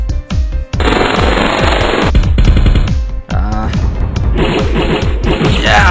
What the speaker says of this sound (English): Tank guns again.